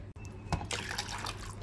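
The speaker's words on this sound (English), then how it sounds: "Now warm water goes in here." Warm water pours and trickles into a container during toy monster truck play, a gurgling stream that starts after a brief pause and keeps going, close and fairly quiet, with faint voices behind it.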